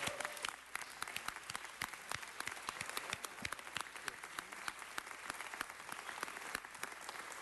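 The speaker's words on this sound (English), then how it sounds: "Give yourselves a round of applause." Dense, steady applause from a city council meeting audience, many hands clapping continuously for the whole stretch at a fairly even level without a break.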